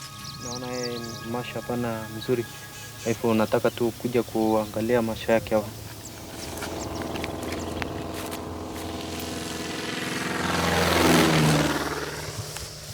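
A search plane flies over to locate a blind rhino, its engine drone swelling to a loud peak as it passes close by and then fading away; narration runs over the start before the aircraft takes over.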